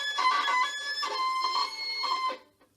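String harmonics played with too much right-hand pressure produce thin, strained, squeaky tones in about three wavering pulses, then fade out abruptly.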